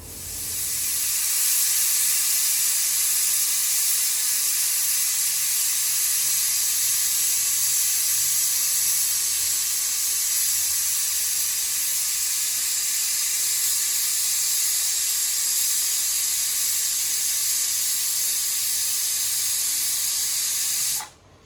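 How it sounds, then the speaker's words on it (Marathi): Steam hisses steadily and loudly from a pressure cooker whistle as dal and rice cook on a gas stove, a continuous bright rush lasting about twenty seconds before cutting off abruptly. "आता दोन शिट्या झालेल्या आहेत"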